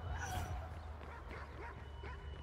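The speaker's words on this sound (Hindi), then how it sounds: "ओ कुत्ते भी आ गए, कुत्ता भी आ गया" A dog in the video game Watch Dogs 2 giving short yips and barks, with whimpery tones, moderately loud over a low rumbling game background.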